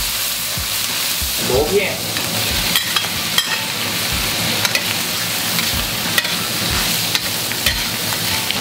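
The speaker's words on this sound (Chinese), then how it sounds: "锅里倒油，蒜头、生姜，然后炒出香味，撒入榨菜" Conch slices stir-fried in hot oil with garlic, ginger and pickled mustard, a steady loud sizzle with spatula scrapes and clacks against the wok, and a brief word spoken early on.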